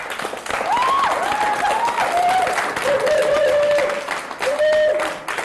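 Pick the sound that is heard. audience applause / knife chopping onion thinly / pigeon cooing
audience applause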